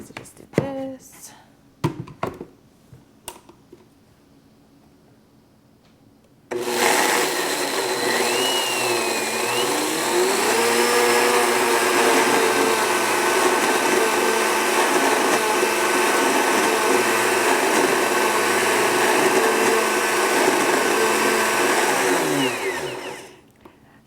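A blender runs at speed 5, grinding 1.5 cups of oats into flour, a loud steady whir lasting about seventeen seconds before it cuts off, preceded by a few scattered taps and handling knocks.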